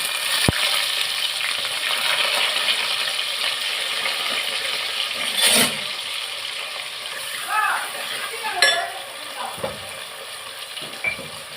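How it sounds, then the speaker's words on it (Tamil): Mustard seeds spluttering in hot oil, a continuous close crackle and hiss with a few sharper pops and utensil clinks, under faint background chatter. "கடுகு பொரிஞ்சிச்சு"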